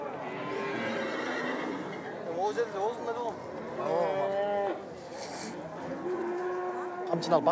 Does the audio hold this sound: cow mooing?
yes